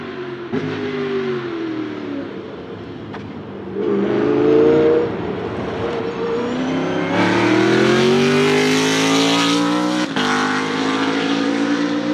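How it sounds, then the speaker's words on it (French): BMW Z4 GT3 race car engine, derived from the M3 E92 unit, revving up toward 8500 rpm in a loud, close, sustained howl with rising pitch sweeps and brief dips between pulls, no talk. "Il monte à 8500 tours minute et il est incontestablement une des plus belles mélodies pour le GT3."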